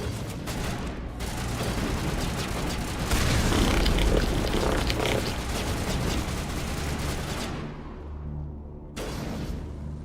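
Mass Effect 1 combat with continuous dense gunfire and rumbling blasts, a loud, busy wash of shots and booms lasting nearly the whole stretch, briefly thinning toward the end.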